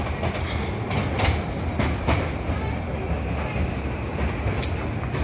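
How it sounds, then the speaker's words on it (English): A toy train at a rail museum rumbles past close by with a steady low roar and rhythmic clacking of wheels over rail joints, loud and continuous throughout. "A toy train has just passed"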